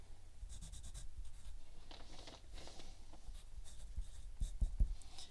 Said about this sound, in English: go ahead and write your name on your paper